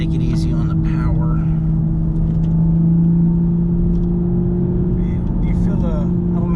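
A modified Toyota GR Supra with a JB4 tune, upgraded intake, MXP catted downpipe and wider tires hums with a steady, loud engine drone that barely rises, while people talk over it.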